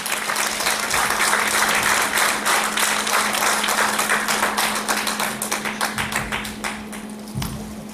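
A concert audience in a cinema hall in Vulcan, Hunedoara, applauds steadily for a performer after his introduction, a dense, loud wash of clapping that holds for several seconds and thins slightly toward the end.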